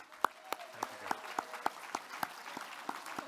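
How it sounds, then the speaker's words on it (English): Scattered audience applause at a cultural diversity awards ceremony in the Fraser Valley, heard as a dozen or so distinct, evenly spaced claps rather than a dense ovation, fairly quiet and without talk. "let's give another round of applause to Tarek."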